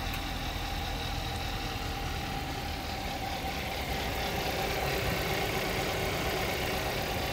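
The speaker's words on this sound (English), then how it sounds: "Engine is very, very quiet." A Kia car engine idles steadily after a jump start, a quiet, even hum with broadband noise and no change in pitch or level throughout, with no voices.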